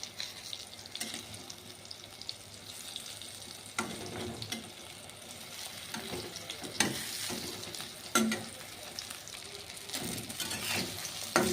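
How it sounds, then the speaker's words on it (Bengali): Eggplant slices fry in oil in a kadai, turned until reddish. A quiet, continuous sizzle is broken by sharp clinks and scrapes of stirring. "এখন আমি বেগুনগুলি ভেজে নিব, সুন্দর করে বেগুনগুলি ভেজে নিব লাল লাল করে"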